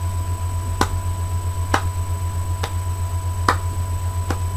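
In a dance lesson, single sharp hand claps mark out a counted beat, about one per second, over a constant electrical hum.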